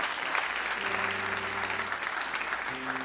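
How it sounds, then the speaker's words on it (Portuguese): A church congregation claps together after a song, with a steady, fairly even wash of applause, a low sustained keyboard chord droning softly underneath. "Vamos aplaudir ao Senhor por essa canção."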